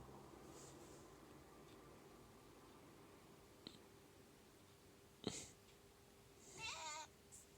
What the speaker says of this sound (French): Ah, il y a des chats.